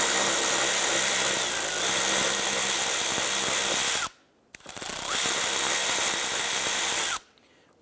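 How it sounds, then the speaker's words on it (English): A 10mm socket on a ratchet works loose the front license plate bracket bolt on a 2012-2017 Toyota Camry, making two steady stretches of close, loud mechanical clicking and whirring, each ending abruptly with a short pause between. "You want to go ahead and use a 10mm socket. Remove the bolt."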